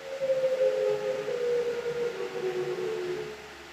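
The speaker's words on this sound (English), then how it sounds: "A warning siren rips through the small town." A small-town warning siren wails in a steady, sustained tone that wavers slightly, loud and continuous with no voices.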